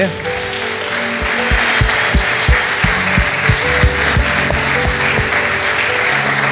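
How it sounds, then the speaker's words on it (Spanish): A church congregation applauds steadily and fairly loudly, with a thumping rhythmic beat running underneath and a voice partly audible over it. "Yo le daría un fuerte aplauso a Dios"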